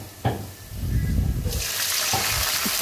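Water is poured into a pan of frying onions. A low bubbling rumble gives way midway to a sudden, loud, broad hiss that carries on steadily to the end.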